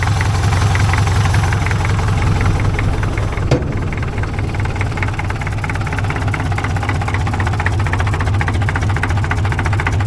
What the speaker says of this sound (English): she wouldn't sit here and idle this smoothly if it wasn't